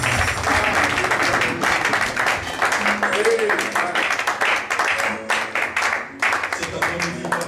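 Church congregation clapping and applauding during worship, dense rhythmic hand claps over voices, with a brief sung or called tone in the middle.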